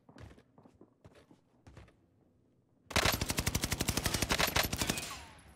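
Rapid automatic gunfire from a Warzone match on Rebirth Island, loud and close, a dense burst of evenly spaced shots lasting several seconds after a few quieter thumps and footsteps.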